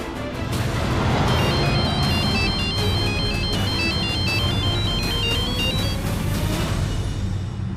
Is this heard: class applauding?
no